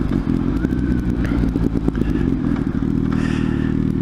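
Motocross dirt bikes at a Walton, Ontario amateur race accelerating hard, a loud rough engine rasp with crackles and clatter, rising revs close by, and no voices.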